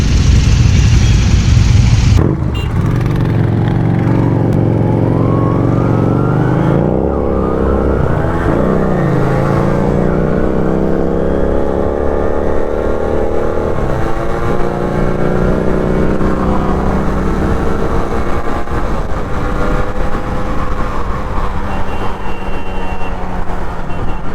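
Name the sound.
Royal Enfield Himalayan motorcycles riding, group ride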